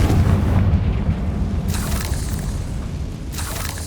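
Confringo spell blast in Hogwarts Legacy, a deep rumbling explosion that booms at onset and rolls on with low crackling debris for several seconds, with two fainter bursts following, loud and alone.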